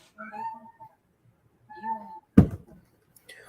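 A few soft meows close by, spaced apart, followed by a sharp knock or thump and faint movement.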